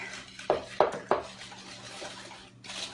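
Sugar and butter whisked in a bowl: three quick metallic clinks of the whisk against the bowl, then a quieter stretch of faint rustling and scraping.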